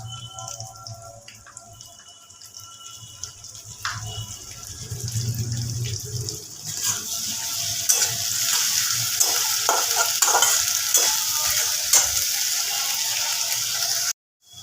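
Softened onions fry in a pan as ginger garlic paste is added, the sizzle rising from quiet stirring into a steady, bright hiss that continues close and loud until an abrupt cutoff.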